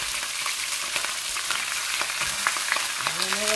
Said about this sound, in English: We're going to also fry them.